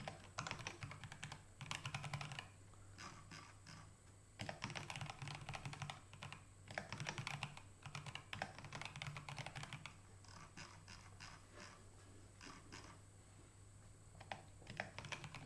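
Steady, close-up clatter of fingers typing on a computer keyboard while writing out headings, with bursts of rapid keystrokes broken by short pauses, quiet overall and without any talking.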